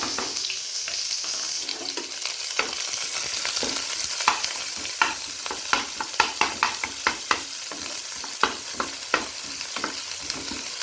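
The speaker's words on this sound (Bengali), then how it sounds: "তেলটা গরম হয়ে গেছে, আমি পেঁয়াজ দিয়ে দেবো," Chopped onions fry in hot oil with a bright, constant sizzle, punctuated by repeated sharp clicks and scrapes of stirring in the pan.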